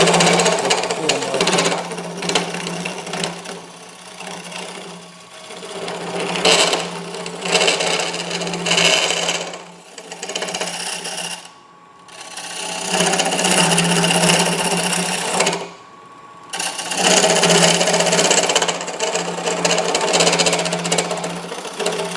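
Continuous close scraping of a natural-edge wood bowl's bottom as it spins on a lathe, a coarse rough whir rising and falling in intensity, with two brief pauses.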